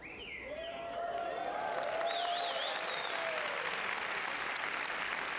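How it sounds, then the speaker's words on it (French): An audience breaks into applause after a short pause, the clapping swelling into a steady wash of many hands that continues to the end, with whistles and cheering voices rising over it. "Tu sais pourquoi les applaudissements sont pas venus plus vite?"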